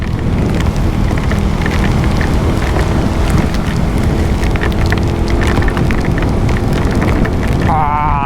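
Heavy rain pours steadily and loudly, recorded on a GoPro 10 while riding through it, a dense continuous hiss with wind buffeting the microphone throughout.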